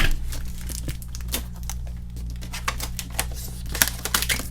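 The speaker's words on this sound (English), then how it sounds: "I'm sort of covering up the seams with this eBay tape" eBay-branded packing tape is pulled and pressed over the seams of a shipping package, giving crackly crinkling and sticky tearing bursts with small sharp ticks, close up and continuous, with no talking and a low steady hum underneath.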